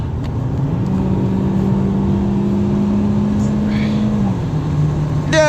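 A 2015 Mazda CX-5 accelerates hard with the pedal floored on a snowy night drive, its engine drone steady and rising in pitch inside the cabin, then easing at the end.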